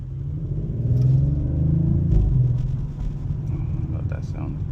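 Deep, steady engine rumble from an Audi RS5 Sportback on the move, swelling slightly and then settling, heard from inside the car with people talking over it.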